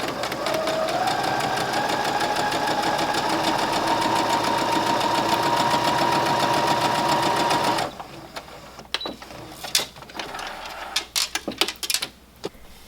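A sewing machine stitches quilt blocks together in a steady, fast, continuous whir for about eight seconds, then falls to quieter handling clicks and rustles of fabric.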